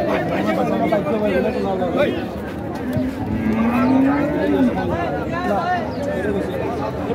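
Cattle at a busy livestock market in Noakhali, with one drawn-out moo rising above steady crowd chatter and nearby voices talking throughout.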